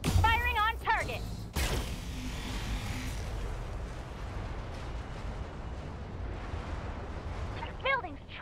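BattleTech mech weapons firing on a target, a sharp crack followed by a long rumbling barrage of blasts, with brief synthetic radio-style voice chirps at the start and end.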